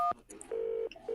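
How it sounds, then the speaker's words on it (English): Touch-tone dialing beeps from a phone in the Nancy Drew game The Haunting of Castle Malloy: a short burst of tones, then a long sustained tone and shorter ones, loud and clean with no talk. "Let's call Ned"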